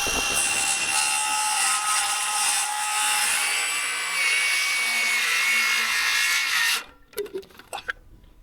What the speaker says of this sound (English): So I'm going to cut these posts now